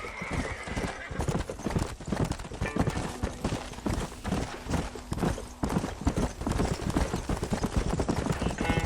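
Horse hooves clip-clop in steady, rapid rhythm in the Red Dead Redemption video game, with an occasional neigh and a brief tonal hum over the close, continuous trotting.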